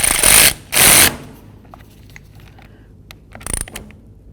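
Ratchet tightening the mounting nut on a 2002-2008 Dodge RAM 1500 wiper transmission, two loud, close bursts of quick clicking, a quieter pause with faint handling noises, then one short final burst.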